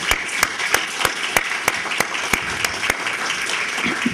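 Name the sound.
audience applause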